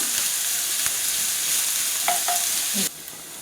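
Onion and garlic sautéing in a pan over a gas flame, a constant loud sizzle with a few utensil taps and scrapes before the sizzle drops away abruptly near the end.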